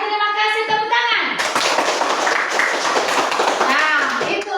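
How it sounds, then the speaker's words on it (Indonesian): A group of children claps steadily in a classroom, a dense burst of applause that follows a brief spoken line. "Baik, terima kasih, tepuk tangan."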